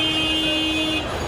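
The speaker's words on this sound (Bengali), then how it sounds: "ছোট বড় প্রাইভেট কিংবা পাবলিক যানবাহনের অযাচিত হর্ন" Vehicle horns blare in congested Dhaka traffic, a steady, loud, sustained honk that runs unbroken through the whole moment over a dense road rumble.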